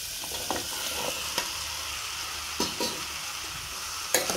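Ridge gourd pieces and onions fry in oil in a pan, giving a constant close sizzle with scattered scraping clinks from a spoon stirring, and no voices.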